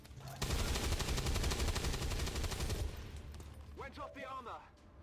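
Ballistic rifle fire in XCOM 2 as a loud, rapid burst of automatic shots that runs for about two and a half seconds and then cuts off, followed by quieter in-game sounds and a brief voice.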